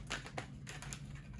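A tarot deck being shuffled by hand gives soft, papery riffling and patter in a few brief bursts, faint and close, with no talking.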